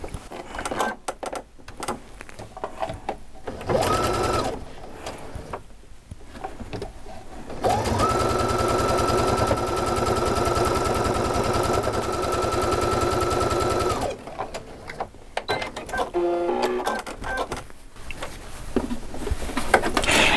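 A sewing machine stitching quilt blocks, bursts of rapid mechanical chatter and a long steady run of stitching in the middle, close and loud, with quieter handling sounds between runs.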